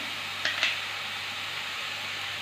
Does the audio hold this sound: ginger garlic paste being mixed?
yes